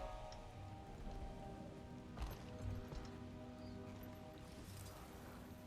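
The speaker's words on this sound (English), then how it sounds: "the rain is a very good touch on this one" Steady rain patters in the fantasy video game Guild Wars 2, a faint, even wash of drops with a low ambient hum underneath.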